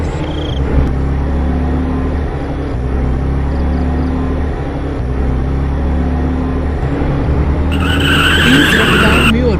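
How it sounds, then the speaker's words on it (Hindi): A car rushing along an empty road at night at high speed, a loud sustained engine roar and rumble that builds into a harsh tyre skid toward the end. "तभी सामने से एक गाड़ी आती है।"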